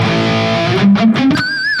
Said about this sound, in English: By the way, here I'm using the warm OD, which sounds nice because I like singing lead tones